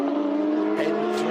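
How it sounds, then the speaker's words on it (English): Michelin Pilot Sport N3 tyres on a Toro Racing Porsche in the Carrera Cup Asia finale at Shanghai let out a brief squeal amid a steady engine drone, heard under race commentary. "A squeal of protest from the Michelin Pilot Sport"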